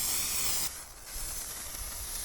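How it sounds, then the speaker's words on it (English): A spray can hisses paint into the roof channels of an 80 Series Land Cruiser, a close airy hiss that drops abruptly in level partway through and continues softer. "I'm just going to throw a coat of paint up here."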